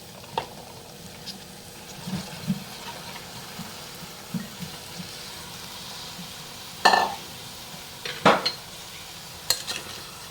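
Cut cowpeas tipped into a pan for a tomato curry and stirred, with soft scraping and patter under a low sizzle, plus a few sharp metallic knocks of a spoon against the pan near the end.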